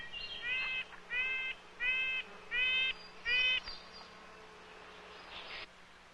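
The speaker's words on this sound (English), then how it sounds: "Their characteristic calls are responsible for their common name, little quank." A bird, a little quank, repeats a nasal, honking call five times in a steady rhythm, clear and fairly close, with a faint hum underneath.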